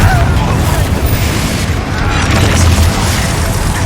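A Confringo blasting spell in the Hogwarts Legacy video game erupts as a loud, sustained, rumbling explosion that fills the whole moment with heavy booming low end.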